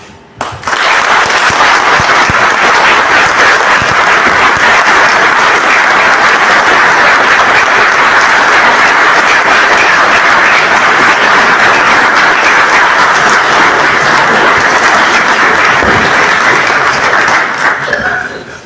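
A hall audience in Durazno stands and applauds an honoree, a loud, sustained wall of clapping that holds steady for nearly twenty seconds before tapering at the end.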